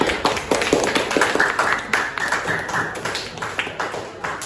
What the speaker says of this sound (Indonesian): silakan beri aplaus buat temennya